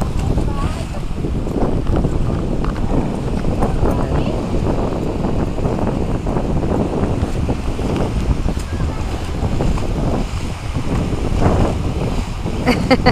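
Big ocean waves crash and wash continuously along a beach while strong wind buffets the microphone, making a loud, rough, unbroken rush throughout.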